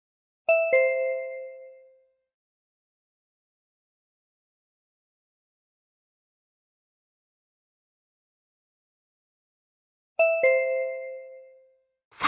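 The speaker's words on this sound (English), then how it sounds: "Maybe it's your cell phone ringing." A cell phone rings with a bright, chime-like two-tone ring, heard twice about ten seconds apart with silence between, each ring fading over roughly a second and a half, fairly close and with no talking.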